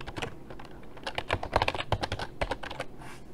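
Fingers tap a computer keyboard in quick, uneven bursts of crisp clicks, close and clear, with a short pause before a final few keystrokes and no voices.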